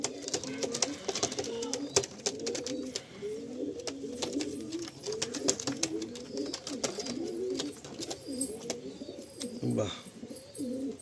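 Chotiyal pigeons coo in repeated low, rolling phrases inside a loft, close by, with scattered clicks and rustles between them and a brief sharper sound near the end.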